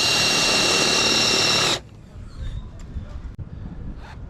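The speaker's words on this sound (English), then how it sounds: "Now that we've got the pilot hole drilled, I'm going to make a little bigger hole." A power drill widening a pilot hole in the roof of a Sprinter van runs loud and steady with a high whine, then cuts off abruptly, leaving quiet room tone with a few faint knocks and shuffles.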